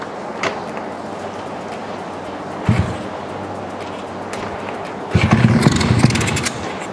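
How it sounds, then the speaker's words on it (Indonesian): A bored-up Honda Astrea Grand motorcycle being started up for restoration, giving a short crank burst near the three-second mark, then the engine catching with a louder rumbling run over the last couple of seconds, close by. "Jadi ini gue mau coba nyalain dulu motornya, mudah-mudahan nyala."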